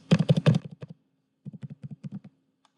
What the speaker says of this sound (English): Okay, so I'm going to type over here